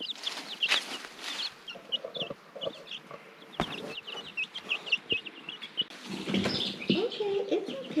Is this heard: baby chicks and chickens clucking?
yes